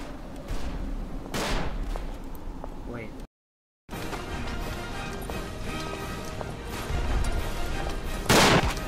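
Gunshots in the WWI sniper game Sniper Elite, set at Verdun, sound out as sharp bursts over a constant din of battle, with a heavy blast close at the end and a short silent break midway.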